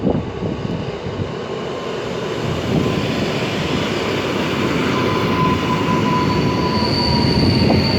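A train pulls into Gdynia Chylonia station, a steady loud rumble of rolling railcars with wheel squeal and a rising high-pitched whine toward the end, no voices.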